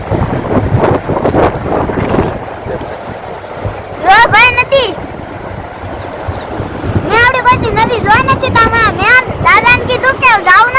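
River water rushes in a steady broadband wash during rainy weather, loud and close with heavy wind buffeting the microphone, while people talk over it.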